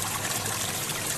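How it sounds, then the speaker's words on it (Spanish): Steady running water trickles under stones and splashes continuously, a broad hiss of flowing water close by with no voices. "Ahí está cayendo también un montón de agua."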